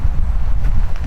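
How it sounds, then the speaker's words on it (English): Wind buffets the microphone outdoors along a wooded trail on a cloudy day, loud low rumbling gusts that roll steadily with no voices. "Pretty windy"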